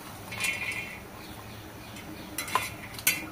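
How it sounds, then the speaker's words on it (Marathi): Grated coconut being dry-roasted and stirred in a pan for a Marathi dal-dumpling masala, with soft scraping and a few sharp clinks of a spoon against the metal, close and fairly quiet with no talking. "त्याच्यानंतर खोबरं भाजून घेते।"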